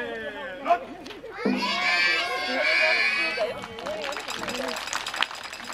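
A crowd of children shouts and cheers together at a Japanese spring cherry blossom festival taiko drum performance, with loud, sustained voices and scattered clapping coming through toward the end.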